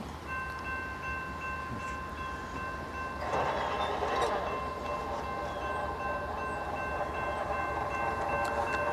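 A freight train on the Henderson subdivision rumbles at a distance over steady wind, then grows louder and brighter from about a third of the way in as it draws nearer, with no voices.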